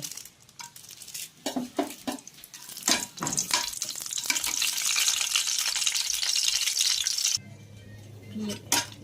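Bay leaf, dried chillies and whole spices fry in hot oil, giving a crackling sizzle broken by several sharp clinks of a utensil against the pan, then a sudden drop to a quieter hum near the end.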